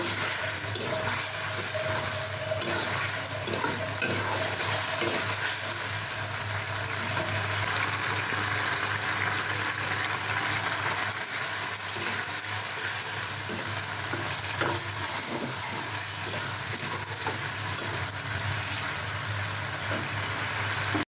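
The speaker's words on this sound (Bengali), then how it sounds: "হিটে রয়েছে তাই কিন্তু খুঁতি দিয়ে অনবরত নাড়তে হবে না হলে কিন্তু পোড়া লেগে যাবে" Chili chicken ball sauce thickened with cornflour, stirred constantly in a hot wok: a continuous close sizzle with soft scraping throughout and no talk.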